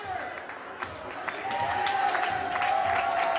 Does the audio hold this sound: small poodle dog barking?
no